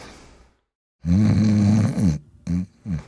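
Loud, enormous snoring, likely voiced by a person imitating it, with a long rasping snore, then a pause and two shorter snorts in rhythm.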